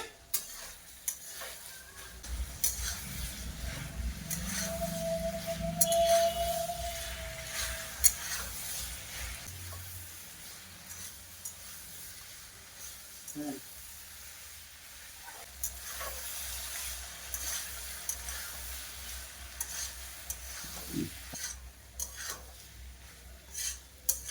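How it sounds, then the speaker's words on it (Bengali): Winter greens and shrimp simmer in a pan with the lid lifted, sizzling softly while a spatula scrapes and stirs, with occasional clinks of utensil on metal and a brief whining tone midway. "আবারও মাঝে ঢাকনা খুলে সবজিকে কষে নেব"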